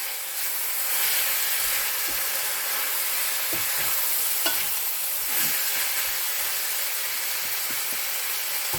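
Chicken frying in a pan at home, a steady close sizzle and hiss of hot oil with occasional stirring scrapes and small pops, no talking.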